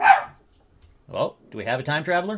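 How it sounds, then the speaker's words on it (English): A dog walking past gives one short bark at the start, then falls quiet while a person speaks close by. "apparently that is just a dog walking by"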